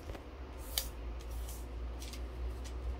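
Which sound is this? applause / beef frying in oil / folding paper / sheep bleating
folding paper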